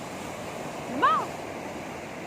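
Sea waves at a seaside wash in a steady, soft rush, with a brief high vocal cry rising over the surf midway.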